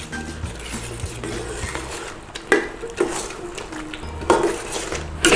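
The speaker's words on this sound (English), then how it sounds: "Give that a little quick stir in there" A spoon stirs white and kidney beans into a pot of turkey chili, giving soft wet scrapes and a few clinks against the pot, close up with no talking.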